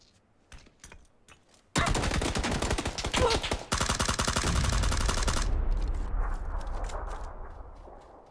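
Rapid bursts of M4 rifle fire in a PUBG solo match, a dense automatic volley lasting several seconds after scattered shots, with loud continuous firing fading into a ringing tail.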